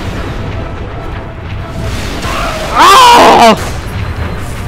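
A tank blows up in a video game, a loud, close explosion burst lasting under a second amid game effects, with a short exclamation from a player.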